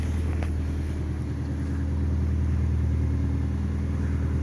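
A freshly overhauled station wagon engine runs at a steady idle, a continuous low rumble heard close by with no interruptions.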